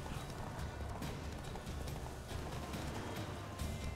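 Hooves of a horse galloping in The Witcher 3: Wild Hunt, a steady rapid clip-clop pounding on through the whole stretch at close range, with no voices over it.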